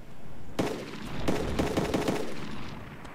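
Rapid automatic gunfire in the video game ARMA 2 on a zombie map: a dense burst of repeated shots over steady background noise, loud and close.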